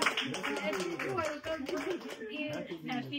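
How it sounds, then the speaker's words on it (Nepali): Audience clapping at a church baby dedication service for a newborn, a steady patter of many hands filling the room while a voice talks over it. "ताली बजाइदिनुहोस् न"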